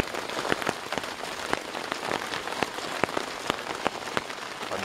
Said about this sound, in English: The rain isn't coming in.